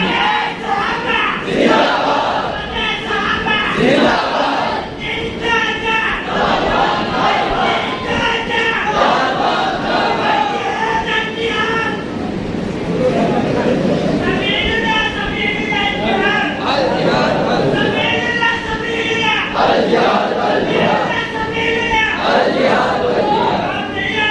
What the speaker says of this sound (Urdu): نعرہ لگا دے, نعرے دے.